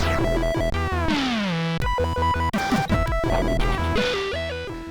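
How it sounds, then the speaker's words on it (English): Chiptune music from the Rogue64 video game, with buzzy 8-bit SID chip tones, sliding pitch sweeps, stuttering arpeggios and heavy wobbling bass in a dubstep-like style, dense and continuous with no speech. "It combines gorgeous 8-bit SID sounds with almost dubstep musical sensibilities."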